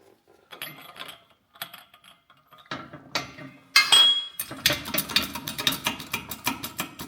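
CVT primary pulley parts from a JF011E transmission pressed onto the shaft with a socket, quiet scattered metallic taps and clicks that give way to a denser run of ratcheting clinks and grinding metal contacts near the end.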